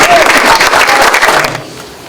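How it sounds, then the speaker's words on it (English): Applause from a crowd at a high school men's golf banquet, dense and loud from the start, then thinning and fading out over the last half second, heard alone. "Everybody around applause for Coach Jimmy"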